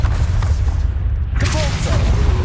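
A Descendo spell strikes home in Hogwarts Legacy, landing as a loud, deep boom with a rumbling low end that rolls on through the moment, with a brief crackling flare partway through.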